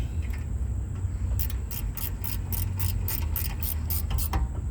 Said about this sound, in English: we use this 14 or this 9/16, and this is what we use to tighten the brake caliper on in place until it's tight